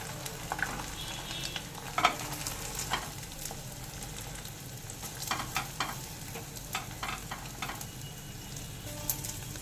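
Beaten egg seasoned with salt and pepper frying in a pan, a soft continuous sizzle near at hand, broken by scattered crackles and a few scraping touches of a utensil.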